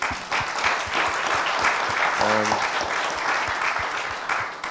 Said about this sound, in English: Give a big round of applause for our 4 speakers.